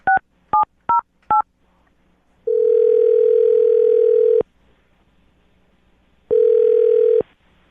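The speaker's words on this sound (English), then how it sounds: "I'm going to dial her phone number right now." Four quick dialing tones beep in succession, followed by two long ringback tones separated by a pause.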